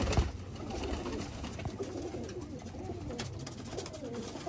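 Pure breeder Sialkoti pigeons in a loft, cooing steadily nearby with light rustling and a few faint chirps.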